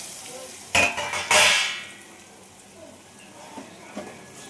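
Patra rolls dropped into a hot pan with asafoetida sizzle and fry, with two loud bursts early on and then a quieter, steady sizzle with faint utensil stirring.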